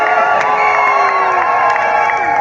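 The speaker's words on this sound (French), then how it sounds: "tu vas pousser des cris de joie pour la gloire de Dieu." A church crowd at an evangelism campaign shouts and cheers with joy, a dense, loud, sustained wall of voices with high whoops and cries rising throughout.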